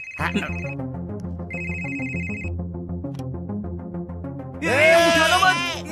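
A telephone rings in short repeated electronic bursts over background music, followed by an excited voice speaking.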